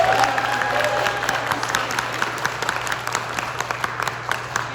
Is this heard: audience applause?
yes